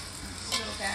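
Rice for nasi goreng is stirred and fried in a wok, giving a soft, continuous sizzle with brief scraping stirs, close and fairly quiet, with no talking.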